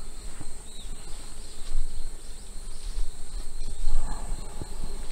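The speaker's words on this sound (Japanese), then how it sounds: "内部でもブンブンやってるみたいなんですよね" Bees buzzing inside a wooden nest box, a faint, continuous insect hum with scattered soft knocks and outdoor background, no talking.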